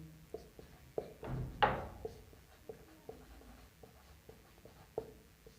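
An equation is handwritten during a Class 10 maths exercise, with faint, intermittent scratching strokes and light taps on paper, one denser burst of scribbling in the middle, and no talking.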